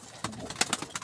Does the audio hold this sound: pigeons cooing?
yes